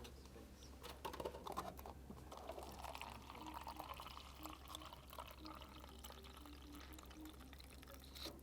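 Water poured from a container, a soft, fairly quiet trickle and splash that runs for several seconds, with faint taps and handling noise and a steady low hum underneath.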